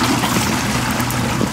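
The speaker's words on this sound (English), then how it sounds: "flushed the toilet? It definitely was not me." A toilet flushing in the ghost-hunting game Phasmophobia, a steady rushing and trickling water wash that stays loud and continuous throughout.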